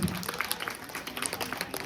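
A crowd claps loudly and continuously at a village school dance function, a dense burst of applause that fills the short moment.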